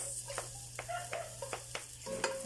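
Onion frying in oil in a pan for pasta in white sauce, a quiet sizzle with a spatula scraping and stirring in short regular strokes under a low steady hum.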